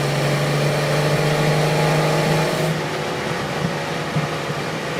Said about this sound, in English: you get to listen to that sort of torquey, powerful rumble that comes back through the car